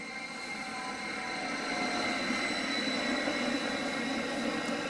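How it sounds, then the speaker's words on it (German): A regional train, the RB54, rumbles steadily with a broad, even roar as it arrives at a station in winter, growing slightly louder as it rolls in, no voices over it. "da kommt jetzt die RB54 rein mit sage und schreibe 10 Minuten Verspätung"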